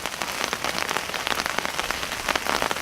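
Rain patters steadily onto a folding automatic umbrella and runs off, a dense, close hiss of drops that stays even throughout with no voices.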